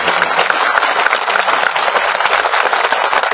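Dense, sustained applause from a large crowd at a public rally in Jalna, steady and loud throughout with no pauses.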